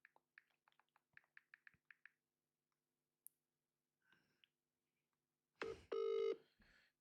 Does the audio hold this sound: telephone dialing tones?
yes